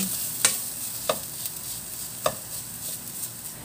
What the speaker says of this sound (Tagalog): So, lutuin lang natin yung miso. Ayan, gisa lang natin.